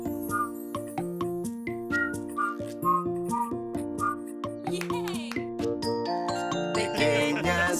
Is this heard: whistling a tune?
yes